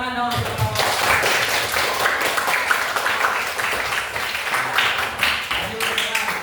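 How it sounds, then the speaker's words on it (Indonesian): Schoolroom applause for the first student group, a burst of clapping from the class mixed with chatter and voices throughout. "tepuk tangan dong untuk kelompok."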